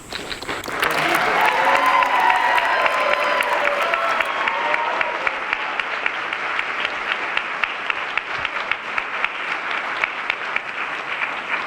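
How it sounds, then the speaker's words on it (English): Theatre audience at a Twelfth Night opera-themed show loudly applauding and cheering, with bright shouts of bravo over the opening seconds, then steady dense clapping continuing to the end. "I'd like you to join me in applauding, cheering bravo to all the people involved, and especially the people who wrote the show."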